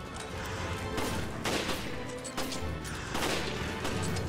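Rifle gunfire during a boss fight against an armoured giant mutant in Resident Evil: Revelations: a loud, sharp shot roughly every half second to second, close and echoing, with no talk.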